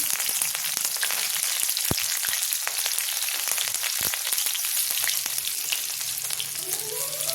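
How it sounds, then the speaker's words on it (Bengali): Whole cumin seeds and green chillies crackle and sizzle in hot oil in a steady, dense frying hiss, with a few sharp pops and a soft stirring scrape near the end. "ফোড়ন দিয়ে দিচ্ছি গোটা জিরে, কাঁচা লঙ্কা"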